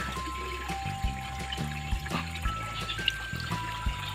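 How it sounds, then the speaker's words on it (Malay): Steady pouring and trickling of water from a glass bottle beside an outdoor fish pond, a continuous moderate splash running throughout with faint background noise. "saya coba ambil air menggunakan botol kacanya."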